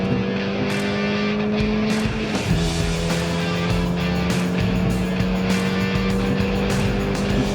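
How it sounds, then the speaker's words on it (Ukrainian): Ford Fiesta ST engine of 200 hp with an aftermarket catback exhaust pipe: a loud, steady droning engine and exhaust note that shifts pitch slightly partway through, close and continuous with no talk. "У нас є кадебек труба, яка дуже непогано звучить."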